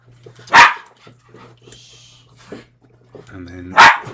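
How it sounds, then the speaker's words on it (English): Two sharp, close dog barks ring out a few seconds apart indoors, with a faint electrical hum and small handling noises between them. "That's the dogs going through there."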